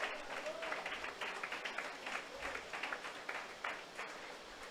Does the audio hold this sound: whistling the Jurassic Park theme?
no